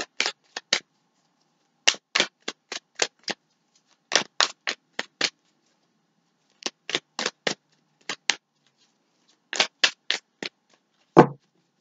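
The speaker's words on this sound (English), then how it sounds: "Now we're going to shuffle." Tarot deck being shuffled by hand in repeated quick bursts of riffling card clicks separated by short pauses, close and crisp, ending with a sharp tap of the deck.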